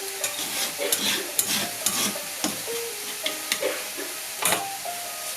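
A scrambled egg is stirred and broken up in a hot pan for fried rice with sausage, giving soft sizzling with irregular scraping and tapping of the utensil, near and moderately loud, with no voices.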